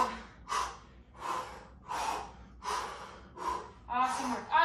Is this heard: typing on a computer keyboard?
no